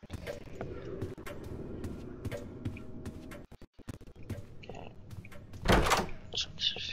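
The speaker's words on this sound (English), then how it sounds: "That's a normal door." In the horror game Doors, a door creaks and thunks shut amid dim room noise and clicks, with a person talking over the game sounds.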